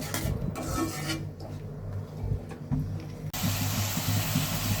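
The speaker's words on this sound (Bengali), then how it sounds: "এখন আমি ভালো করে মশলাগুলো কষিয়ে নেব" Turmeric and chili powder with salt sauté in a pan while being stirred, giving a steady close scraping sizzle that grows brighter and louder in the last second or so.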